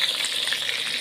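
Half a kilo of tomatoes sizzles steadily in a pan of chicken karahi, a dense, close, continuous frying hiss with no voices.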